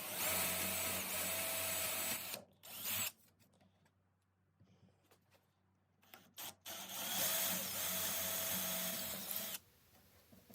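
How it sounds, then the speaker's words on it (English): A power drill boring holes in a 1958 GMC pickup to mount a billet aluminum pop-up gas cap: loud, steady whining bursts with a quiet gap in the middle, then a long final run, close and without speech. "I drilled 3 holes"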